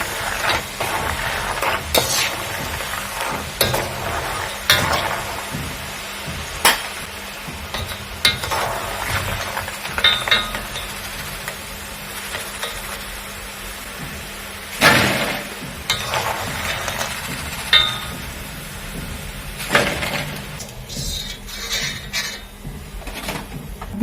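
Groundnuts stirred as they dry-roast in a pan, irregular scraping and rattling knocks of a spoon against the pan at close range, quiet between sporadic louder strokes.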